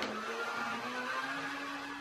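Electric mixer beating cake batter with hot water whirs in a steady, close motor hum with a slowly rising pitch, continuous over the brief moment.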